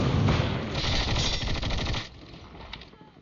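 Rapid shotgun blasts from Call of Duty Mobile, a dense burst of loud, close gunfire for about two seconds, then quick fading echoes.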